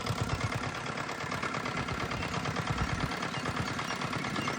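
A Giriraj nano tractor, a small 5 to 7.5 HP farm machine, runs its engine steadily throughout, a loud, close, continuous chugging idle with a rapid knocking pulse and no talking.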